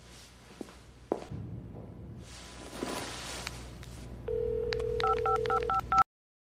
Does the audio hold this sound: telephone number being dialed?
yes